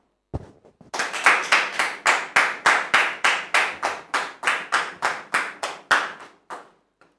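Rhythmic clapping from a studio audience on a talk-show set welcomes a guest, a steady run of about twenty loud, even beats after a single sharp hit.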